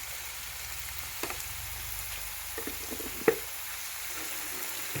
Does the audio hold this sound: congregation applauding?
no